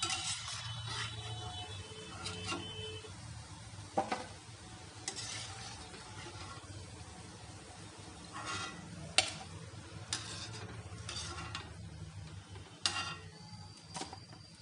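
Potato chilli garlic nuggets frying in hot oil, a quiet continuous sizzle broken by scattered sharp ticks and clinks of a utensil stirring the pan, with no talking.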